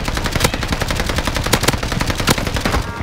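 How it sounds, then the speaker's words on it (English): Rapid bursts of automatic gunfire from an MP40 in Call of Duty Warzone, loud and continuous for about three seconds with sharp, closely spaced shots and no voices. "Enemy is firing on me."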